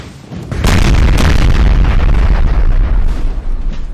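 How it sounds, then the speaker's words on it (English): Artillery cannons in the Napoleon Total War game at a recreated Battle of Borodino fire in a dense, continuous barrage of loud, overlapping booms and rumbling blasts that swell after a brief quieter start. "Ooh, thunderous guns, I'm telling you."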